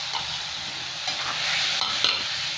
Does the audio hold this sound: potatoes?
yes